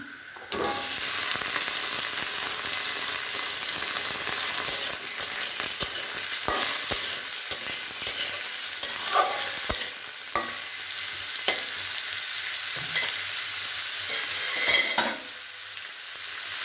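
Potatoes frying in a pan for a mixed vegetable dish, a constant crackling sizzle with repeated scraping and stirring knocks of a spatula, growing busier toward the end before a brief clatter.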